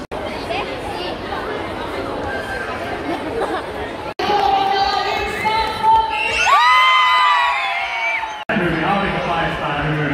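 A crowd at an outdoor challenge event cheering and clapping for the contestants, loud continuous noise with whoops and shouts, and someone speaking over it at times.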